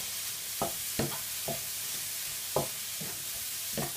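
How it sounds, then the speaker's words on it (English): Big mushrooms cook in a pan under a constant bright sizzle, broken by a handful of distinct scraping stirs spaced about half a second to a second apart; no voice. "Give that a good stir and get those mushrooms cooked through"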